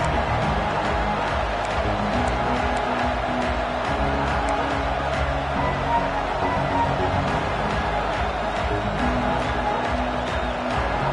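Steady, loud roar of a football stadium crowd at a game against Washington, a dense wash of cheering and murmur that holds level throughout with no clear talk.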